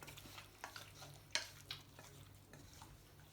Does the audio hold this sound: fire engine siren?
no